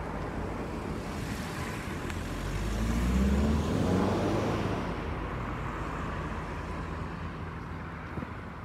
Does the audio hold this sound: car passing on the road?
yes